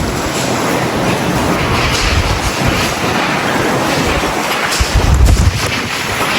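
Dust storm wind roars in a constant heavy rumble with buffeting gusts against the microphone, loud and unbroken, during a stormy drive between Peshawar and Islamabad.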